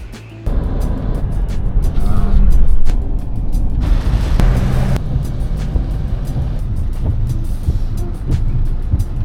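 A car drives along a road in Vietnam, heard from inside as a loud, steady low rumble of engine and road noise with occasional bumps and rattles.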